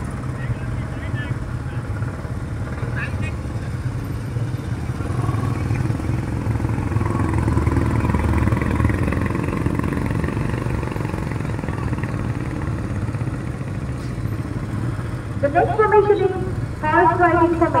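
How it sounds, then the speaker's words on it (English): Police motorcycles ridden in a stunt formation at a Republic Day parade in the Andaman Islands, a steady engine drone under crowd noise and a commentator's voice, with brief whistle-like tones near the end. "riders combine the thrill of motorcycle stunts with the elegant precision of traditional horseback riding"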